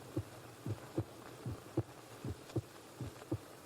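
A slow, even heartbeat thumps in a radio crime drama, each low double pulse coming at a steady rhythm over a faint hum, with no voices.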